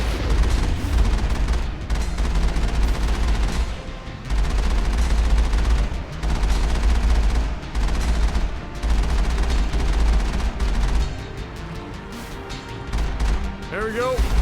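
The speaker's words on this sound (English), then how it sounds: "I can't hear you over the sound of my Mako's fucking machine guns!" Rapid machine-gun fire from the Mako vehicle in the video game Mass Effect, sustained loud bursts with brief gaps, overlapping booms and crashes throughout.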